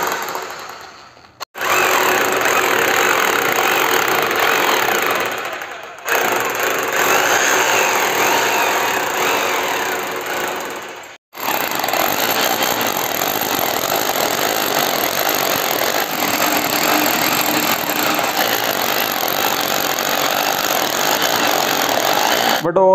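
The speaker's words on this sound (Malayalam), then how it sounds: "ഇപ്പോൾ ഡ്രില്ലടിക്കുന്ന സമയത്ത് മെഷീൻ കുറച്ചിങ്ങനെ ചരിച്ചിട്ട് അടിച്ചു കൊടുത്തു കഴിഞ്ഞാൽ" A power drill grinds steadily through a long bore while fitting steel grills in a work area, running loud and continuous with two brief pauses, and a voice talking over the noise.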